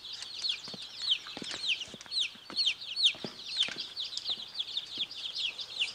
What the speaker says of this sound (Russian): Виктория, последите-ка тут за моими цыплятами